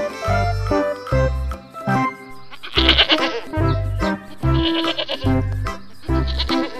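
Goats for sale bleat repeatedly in short, loud calls one after another, close by, with a faint jingling in the background and no talking.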